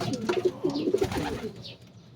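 Racing pigeons coo softly nearby during a training release, with several low, rolling coos and faint rustling over about two seconds.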